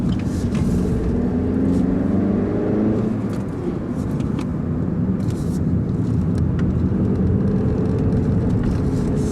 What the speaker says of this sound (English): Let's go onto the highway, so I'll show you how the engine actually picks up.